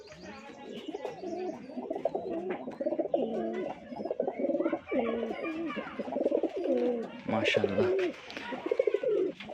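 Rajshahi Giribaz pigeons coo and burble continuously at close range in a loft, overlapping rolling calls with brief chirps, while someone speaks briefly over them.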